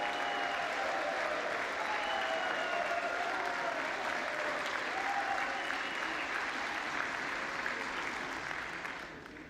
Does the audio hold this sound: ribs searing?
no